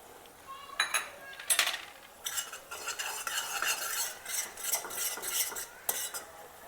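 A spoon stirs besan into boiling water for methi pitla, making rapid scraping and clinking strokes against the pot in an uneven rhythm over a soft bubbling hiss, close and without speech.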